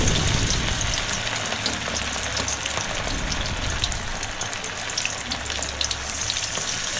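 Fish pieces sizzle and crackle in hot oil in a kadai, a dense, steady frying hiss that stays loud and close throughout with no talk.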